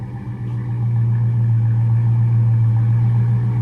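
A Dodge Charger Scat Pack with a 6.4L HEMI V8 idles steadily and loudly nearby, a deep, even rumble holding constant throughout with no revving.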